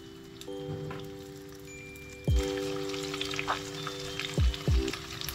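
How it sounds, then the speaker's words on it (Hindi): Chicken pieces frying in hot oil give a steady crackling sizzle, with sharp thumps and clatters of utensils or pieces dropped in a few times and a faint tonal hum in the background. "उसमें 1 by 1 आपने चिकन के तमाम पीसेस को फ्राई कर लेना है"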